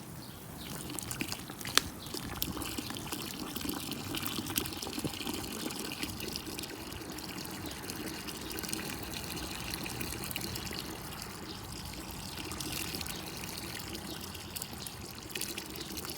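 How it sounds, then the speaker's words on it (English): Maple tree sap poured from a container into a boiling pan to top it off, a steady gushing trickle of liquid running continuously, fairly close and alone. "So we're going to add the last of our sap here."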